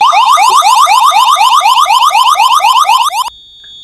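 A loud electronic alarm notification from an Alerto+ system warbles rapidly in repeating up-and-down sweeps, then cuts off abruptly near the end, leaving near silence.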